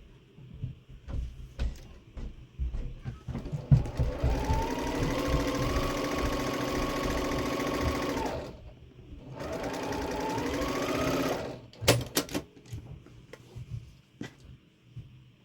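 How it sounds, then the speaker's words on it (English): A sewing machine stitching quilt block pieces, with two long steady whirring runs of rapid stitching separated by a short pause, close and clear, plus small clicks and handling knocks at the start and end. "I can get both pieces on, sew them, press them, and then do the other two sides."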